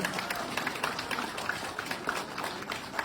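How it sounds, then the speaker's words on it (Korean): Quiet, distant clapping from an audience at a mayoral candidate's campaign event, a soft patter of hands under faint room noise. "박수 한번 부탁드리겠습니다."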